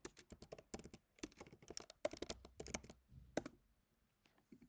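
Close, crisp keystrokes on a computer keyboard tap out a git command in uneven bursts with short pauses, ending in a few isolated key presses.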